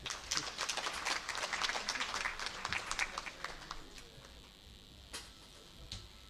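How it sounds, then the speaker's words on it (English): Audience applause at the inaugural function of a medical conference, a dense patter of clapping at first that thins out and fades to a few scattered claps, heard faintly from a distance. "A big round of applause for Jaideep."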